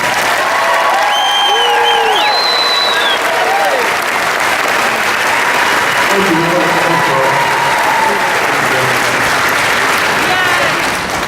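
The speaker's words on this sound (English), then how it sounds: "give a big Williamsburg round of applause for Jack Hanna" A large crowd at a park gathering gives loud, sustained applause and cheers for a guest, a dense wash of clapping with voices and whistles rising over it throughout.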